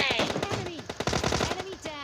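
Rapid bursts of gunfire in PUBG Lite crackle in quick succession over a busy mix of game effects, loud and close, with some chatter in the background.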